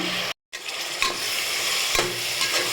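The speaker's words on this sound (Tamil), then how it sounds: "அதையும் சேர்த்து நல்லா வதக்கிக்கோங்க தக்காளி நல்லா வதங்கட்டும்" Tomatoes sauté in a hot pan with a steady sizzling hiss, interrupted by a brief silence, while a utensil stirs with occasional scraping clicks against the pan.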